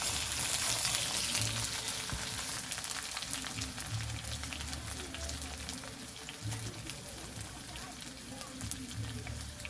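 Potatoes frying in oil in a rustic village kitchen give a soft, continuous sizzle with light crackles, stirred now and then with dull low knocks recurring every couple of seconds.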